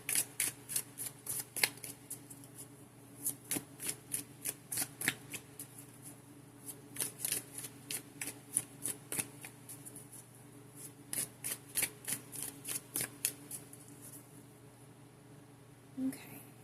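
Tarot cards are shuffled close and softly in a quiet ASMR reading, coming as repeated bursts of riffling and flicking with short pauses between them.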